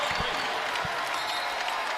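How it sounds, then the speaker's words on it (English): A crowd at a basketball tournament game applauds a player leaving the court, a continuous, moderately distant wash of clapping and cheering with occasional louder thumps, in an arena. "he's going to come off here to an applause"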